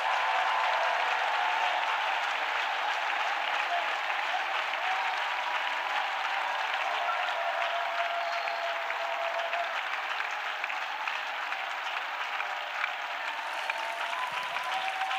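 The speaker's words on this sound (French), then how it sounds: "Let us clap for Jesus Christ." A church congregation claps steadily and loudly for about fifteen seconds in a dense, continuous wash of applause with no voices standing out.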